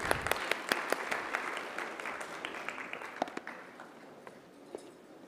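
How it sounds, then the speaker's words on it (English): A university orientation audience gives a round of applause, heard as a fairly distant, moderate crowd clapping with a few sharper individual claps standing out, gradually fading toward the end. "A big round of applause, please."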